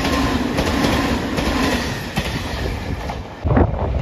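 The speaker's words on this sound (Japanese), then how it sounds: "豊浜駅7時49分通過、特急潮風6号" A JR Shikoku 8000 series Shiokaze limited express electric train rushes through Toyohama Station, a loud close roar of rumbling wheels and rhythmic rail clatter that swells briefly near the end.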